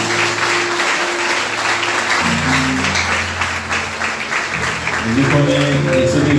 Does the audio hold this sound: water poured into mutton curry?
no